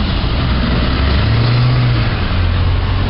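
Busy city street traffic near a pedestrian mall and Nokia Stadium in Yad Eliyahu, Tel Aviv: a loud, continuous roar of passing cars and engines close by, with a deeper vehicle surging past midway.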